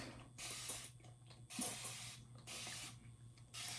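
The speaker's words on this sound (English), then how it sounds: "nobody had a clue what I was talking about this hair sprayer" A hair spray bottle fires several short bursts in an irregular rhythm, each a bright close hiss separated by brief pauses and faint mechanical clicks of the pump.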